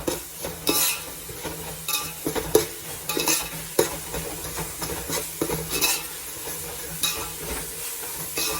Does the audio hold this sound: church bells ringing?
no